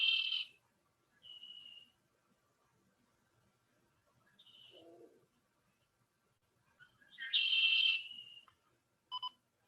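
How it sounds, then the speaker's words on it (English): A red-winged blackbird sings in a wetland, its short bright calls coming in scattered bursts with quiet gaps between, clear but not loud, with a fainter lower note partway through. "associated with our wetlands is red wing blackbird. Very unique"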